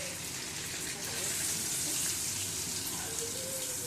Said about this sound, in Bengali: প্রথমে আমি রসুন কুচিগুলো দিয়ে দিলাম